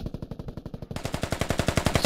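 A mounted machine gun in a war video game fires a rapid, unbroken burst of evenly spaced shots, loud and close, growing brighter partway through.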